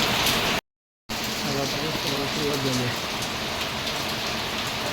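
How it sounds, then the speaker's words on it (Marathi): Sudden rain pours steadily with a dense hiss after a brief dropout, while a voice talks quietly beneath the downpour. "इथं पावसाला सुरुवात झाली आहे अचानक"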